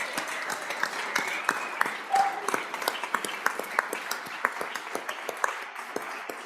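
Legislators applaud on the House floor during a state session, steady moderate clapping from many hands in a large chamber, fairly even and continuous throughout.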